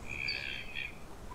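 A crow squawks in the video game The Last Door, giving two harsh, strained calls close together that fade into faint background ambience.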